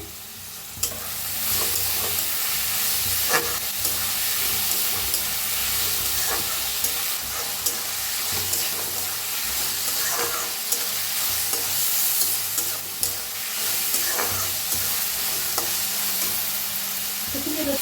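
Onion and spring onion frying in a pan for egg fried rice, a steady loud sizzle with hissing steam throughout, broken by the repeated scrape and clatter of a spatula stirring.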